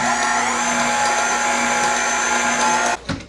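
Electric hand mixer beating cheesecake filling with salt and vanilla, a loud steady whining motor hum that runs evenly for about three seconds and then stops.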